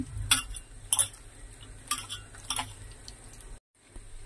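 Chicken pieces being mixed with egg for a crispy chicken fry: a utensil clinks against a bowl in a slow, irregular series of bright taps over a soft background hum.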